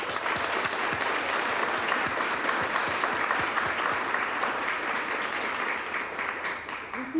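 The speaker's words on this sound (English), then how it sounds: "One more final round of applause." A crowd at a women's achievement celebration applauds steadily, a dense, sustained wash of clapping that carries on evenly before beginning to fade at the end.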